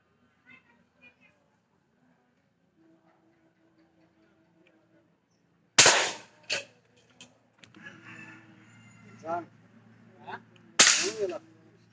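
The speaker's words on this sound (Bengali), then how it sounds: "ওটা কটা ফায়ার করলাম প্রায় ছয় সাতটার মতো" A Daina mod 35 toy gun fires two loud, sharp cracks several seconds apart, with people talking between and after the shots.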